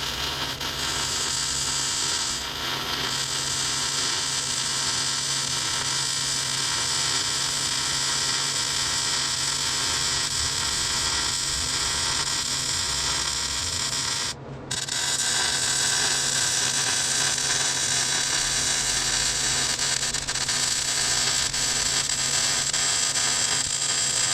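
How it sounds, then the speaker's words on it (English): A welder fuses a bracket onto a rig, producing a steady, close buzzing hiss that runs almost unbroken, with one brief cut-off midway before it resumes. "And so now I'm gonna weld that on"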